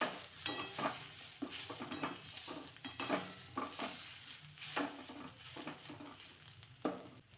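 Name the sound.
sautéing vegetables in minimal oil in a pan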